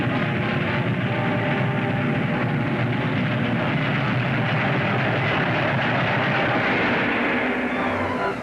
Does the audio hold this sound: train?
yes